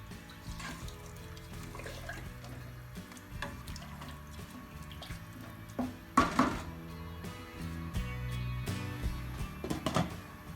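A spoon stirs polao rice with green chilies, peas and salt in a cooking pot, giving scattered clinks and scrapes against the metal, with a louder knock partway through. The handling sounds are faint and irregular and come over a quiet background.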